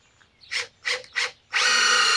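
A power drill drives screws into wood for a DIY engineered 6x6 barn post: three short whirring bursts, then a sustained high-pitched spin close by, with no talk.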